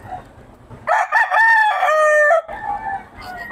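A stag gamecock crows once, close and loud, a drawn-out call of about a second and a half, with faint farm background noise before and after.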